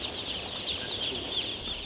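Chickens on a farm cluck in a soft, continuous chatter from a flock, fairly faint and steady with no talk.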